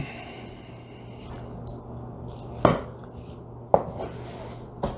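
A knife trims fat from a beef eye of round on a cutting board. There is a low steady hum, then three distinct close knocks of the blade hitting the board, spaced about a second apart.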